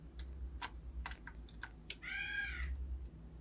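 A crow caws in the At Home Alone 3 video game, one harsh rippling caw near the end, preceded by scattered clicky keypresses over a low steady hum.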